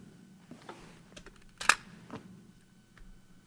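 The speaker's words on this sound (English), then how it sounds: "It's literally as easy now as releasing the shutter. It just took a digital photo." The shutter of a film camera with a Zeiss Planar lens and a snap-on 100-megapixel digital back is released in one sharp, close click, with a few faint handling taps before and after.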